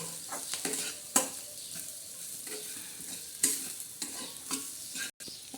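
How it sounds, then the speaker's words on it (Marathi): Ground peanuts roasting in a pan, stirred with repeated scraping strokes and a soft, steady sizzle, close and fairly quiet, with sharper scrapes every second or so. "आता ते शेंगदाणे आपण त्याच्यामध्ये भाजून घेणार आहोत मस्त अशा आपण आता खमंग असे भाजून घेणार आहोत"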